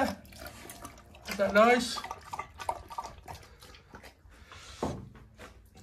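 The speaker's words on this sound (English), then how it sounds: "dogs have found some water in there to drink" Dogs drinking water outdoors, with intermittent wet lapping and dripping sounds close by, partly under a person talking.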